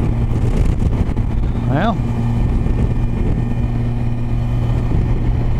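Kawasaki Versys 1000 motorcycle cruising at about 65 mph on the highway, a steady droning engine and wind rush throughout, with a rider's voice briefly speaking over it.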